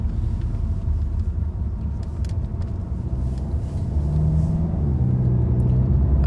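A Volkswagen Golf 7 GTI driven calmly, its exhaust giving a steady, low rumble from inside the car, with road noise throughout and no voices.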